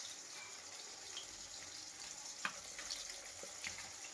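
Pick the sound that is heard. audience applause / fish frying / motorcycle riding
fish frying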